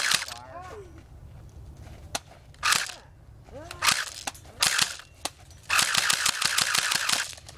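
Airsoft guns crack out in short bursts and single shots during an outdoor team match, rapid sharp pops scattered across the scene with voices in between.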